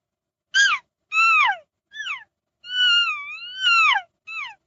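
A person imitates a lost elk calf with a call, giving six high, whiny, falling mews in a broken sequence, one long wavering note among them, clear and close against silence.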